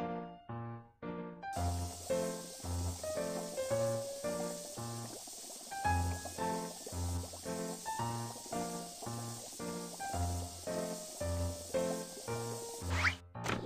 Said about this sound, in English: Spray the door with foam.